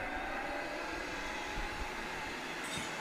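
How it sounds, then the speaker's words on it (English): A gasifier blower runs continuously, a steady broadband roar with a low rumble, constant and fairly loud throughout with no break. "I start the blower"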